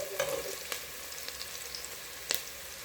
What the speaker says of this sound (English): the moment you see the aromas coming off from your onions and garlic mix, you go ahead and add the tomatoes